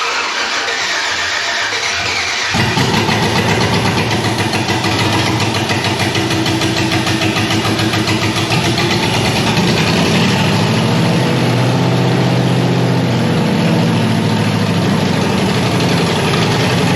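A 1979 Jeep Cherokee Chief with a swapped 5.3 V8 cranks for about two seconds, then fires and settles into a loud, close, steady rumbling idle that carries on to the end.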